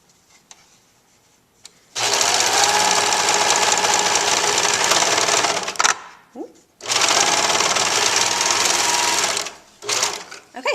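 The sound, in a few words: serger sewing machine serging pouch sides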